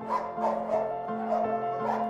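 Dogs in a shelter enclosure give a run of close, repeated barks and yips with a whining, tonal edge, several bursts in quick succession.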